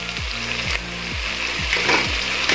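Tomato paste and ginger-garlic paste fry in a hot pan with a steady loud sizzle, while a spoon scrapes and stirs in repeated strokes about every half second; no talking.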